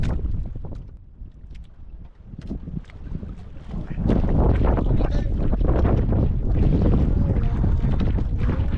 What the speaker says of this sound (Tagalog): Sabi lakas ng hangin oh.